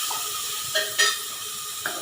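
Onions fry in a pan with a steady, bright hiss, broken by a few louder sputtering pops close by, with no talk over it.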